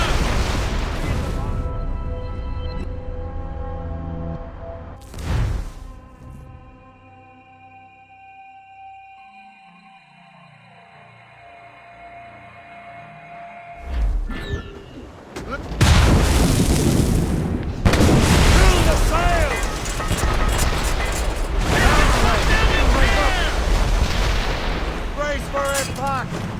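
Ship cannons in Assassin's Creed Rogue boom in a naval battle: a single heavy blast, a lull with ringing tones, then a dense roaring barrage of volleys as voices shout over the din.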